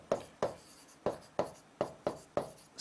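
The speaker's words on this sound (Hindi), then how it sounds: "तो यहाँ पर हम लिख सकते हैं कि" Chalk or marker writing on a board during a history lesson, seven crisp taps and short strokes at an uneven pace, close and clear with no talk.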